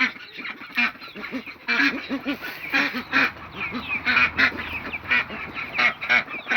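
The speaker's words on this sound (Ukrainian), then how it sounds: "Дуже смачне м'ясо від цих качок, голубий фаворит." Blue Favorite ducks quacking and honking in a loud, continuous chorus of repeated calls close by, with no talking.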